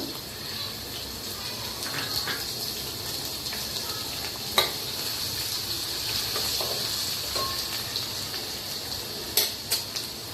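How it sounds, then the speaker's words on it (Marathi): A crushed garlic, ginger and green chili paste sizzling in hot oil, a steady soft hiss in a pan with a few sharp ticks and clicks of utensils, fairly quiet and close. "3 चमचे तेल, तेल छान गरम झाल्यावर त्यात लसूण, आलं आणि मिरचीचा ठेचा टाकावा"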